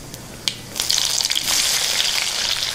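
Onion pieces dropped into hot oil in a pan while cooking toor dal with yellow cucumber: a close, loud sizzle bursts in after a small clack and keeps crackling steadily, with no talk over it.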